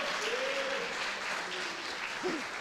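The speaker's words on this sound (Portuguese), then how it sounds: "Você pode aplaudir o Senhor de novo" Congregation in a church worship service applauding steadily throughout, with faint sung or sustained voice tones drifting over the clapping.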